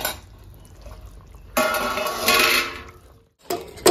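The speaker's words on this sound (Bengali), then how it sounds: "মাছগুলো দিয়ে একটু ফুটিয়ে নেবো।" Fish curry with potato and papaya in a pot, with a soft bubbling simmer that turns louder and sizzling partway through, then a brief silence and a clatter of utensils near the end.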